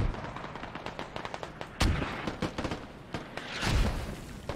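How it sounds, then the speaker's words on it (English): Gunfire in a multiplayer video game match with mortars in use: rapid cracking shots and bursts of automatic fire, punctuated by several heavier booming impacts, dense and close throughout. "Really utilizing those mortars."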